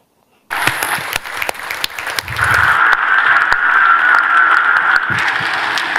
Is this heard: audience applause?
yes